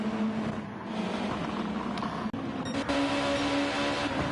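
A race car engine in a racing video game hums steadily as the car comes into the pits, a moderate drone with a sharp brief cut midway.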